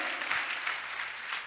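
A church congregation breaks into applause during a sermon. The clapping is soft and steady and sounds somewhat distant, with no speech over it.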